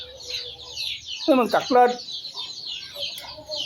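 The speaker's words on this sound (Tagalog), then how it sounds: "Atong mga alagang manok ha." Pet backyard chickens clucking in the morning while being fed, a burst of several close, throaty clucks in the middle with someone talking around them over faint bird chirps.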